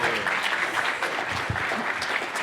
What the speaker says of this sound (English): let's give Kaylin a round of applause